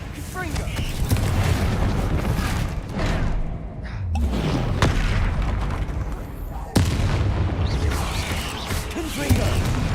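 Repeated fiery blasting spells cast in combat in Hogwarts Legacy, loud booming bursts and crackling impacts tumbling over one another throughout, with a sharp hit near the middle and a voice shouting spell names.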